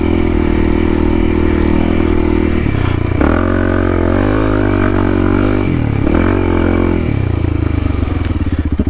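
A dual sport motorcycle, such as a CRF or DRZ-400, roars loudly off-road, its engine note rising and falling as the rider revs through throttle changes close to the mic.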